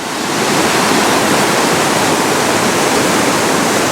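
A steady, loud roar of rushing river water by houses in Lucerne, broadband and unbroken, like rapids churning nearby.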